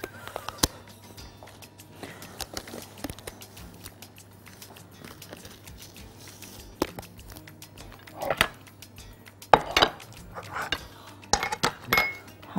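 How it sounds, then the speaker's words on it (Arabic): Flour is mixed in a bowl in a home kitchen, giving light clinks and taps of a utensil against the bowl that are sparse at first and then quicken into clustered, louder strikes, with no talking. "هلخبط كده الدقيق"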